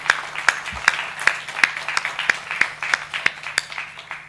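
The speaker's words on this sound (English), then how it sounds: "A huge round of applause for him." An audience applauds at a regional Abilympics conference at IIT Madras, steady rhythmic clapping with regular loud accented beats roughly every third of a second, moderately close.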